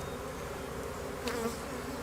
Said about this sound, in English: I can see bees bringing in pollen.